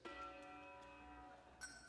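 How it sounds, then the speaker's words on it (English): A large G2 handbell from a six-octave Malmark set is struck once and rings with a deep, sustained tone, with a brighter clink near the end. "The largest bell we have is the G2 that looks and sounds like this."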